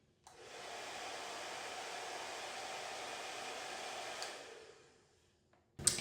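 A hair dryer fitted with a diffuser runs on wavy hair, switching on with a steady loud whooshing roar for about four seconds, then winding down and stopping.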